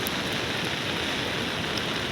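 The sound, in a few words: rain on Madhmaheshwar trek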